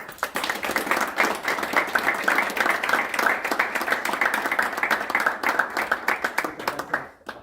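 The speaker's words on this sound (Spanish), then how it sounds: "Un aplauso." Audience applause after a church talk on Adventist teaching, many hands clapping in a full, even burst that holds for several seconds and then stops abruptly.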